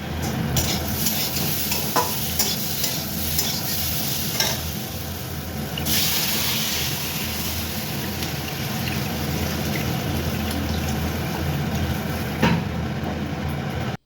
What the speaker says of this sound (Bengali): আর এখন ঝোলটা কিন্তু ফুটে উঠেছে